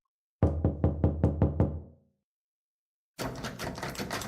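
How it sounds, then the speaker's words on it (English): Someone pounding on a door: six loud, evenly spaced heavy knocks close by, then about a second of silence, followed by a rougher burst of rattling and banging at the door. "Knocking sounds, essentially. Someone was pounding on the door."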